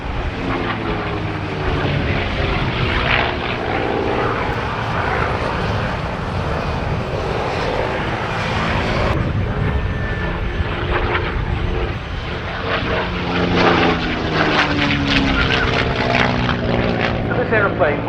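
A North American P-51 Mustang, a 1945 US Army Air Forces aircraft, flies at the Duxford Battle of Britain Airshow, its propeller engine droning steadily and loudly throughout with a Doppler-like sweep, mixed with faint crowd sounds.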